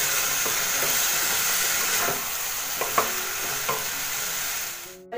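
Pan of coriander, raw mango, turmeric and salt being stir-fried, with a steady close sizzle and scattered clinks of a spatula against the pan, alone until the frying cuts off at the very end.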